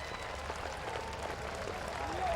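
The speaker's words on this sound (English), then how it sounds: "he's up now and getting the round of applause" Steady applause and crowd noise fill a high school football stadium during the Woodbridge vs Aliso Niguel game as an injured player gets back up, with a broad, distant wash of clapping throughout.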